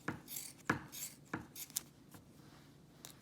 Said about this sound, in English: you just want to take some scissors and cut about every 1/2 inch or so close to where that stitching line is